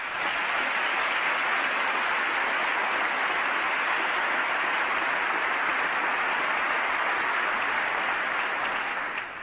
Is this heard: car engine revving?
no